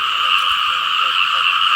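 Frogs croak in a loud, close, continuous trilling drone in a rural Thai frog-catching spot. The steady buzzing chorus carries no voices over it.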